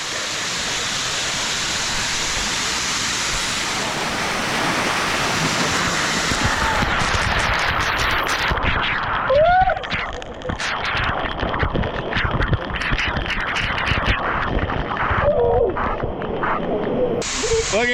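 Jhari Falls near Chikmagalur pours with great force, a loud steady rushing hiss of spraying water close by, with a voice briefly heard over the roar.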